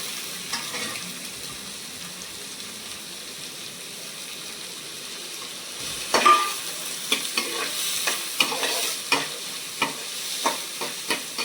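A steady low sizzle of garlic frying in oil, then a burst of louder crackling as onion goes in, with repeated stirring scrapes continuing through the second half, close by.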